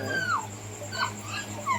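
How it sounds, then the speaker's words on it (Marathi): A dog whimpers in a few thin, drawn-out whines, fairly quiet over a steady household background hum. "तो कोकीला बघ कुत्रा कसं करतो."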